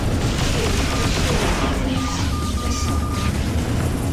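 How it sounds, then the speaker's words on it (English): Missiles are fired at a spaceship in the space-combat game Freelancer, giving a continuous rumbling barrage of booms and blasts with thin electronic tones laid over a dense, loud background. "They keep firing missiles at me and they don't actually do a whole lot of damage"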